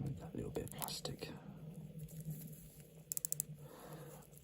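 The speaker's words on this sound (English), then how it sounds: "Got quite a thick bezel going on there with a nice smooth gliding style clicker system." A thick unidirectional diver's bezel on a Rotary Henley Seamatic watch turns with a gliding clicker, giving a quick run of four faint, close clicks against a quiet background.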